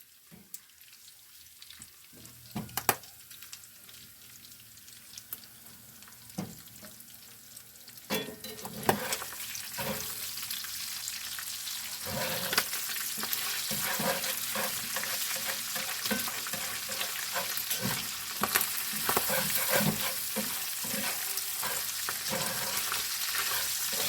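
A pound of sausage sizzles and spits in a pan, with a quiet start before the frying swells into a steady crackle punctuated by clinks and scraping stirs; no one speaks.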